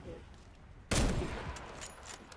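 A sudden loud grenade blast in the Warface shooter game bursts out after a quiet moment, then rumbles and fades while faint scattered gunfire and game noise carry on.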